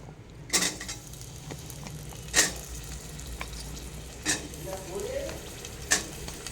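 Onions and tomatoes fry softly in a pan for mutton curry, giving a low, steady sizzle. A few sharp clinks and scrapes of stirring are spaced through it.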